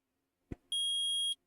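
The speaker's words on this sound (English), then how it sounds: "that's a very loud beeping in my ears" In the Phoenix Wright Ace Attorney video game, a metal detector gives one steady electronic tone lasting about half a second, preceded by a short soft thump.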